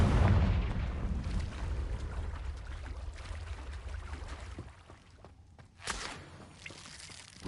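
A Confringo fire spell explodes in the game Hogwarts Legacy with a deep rumbling boom that slowly fades, then a second sharp blast comes near the end.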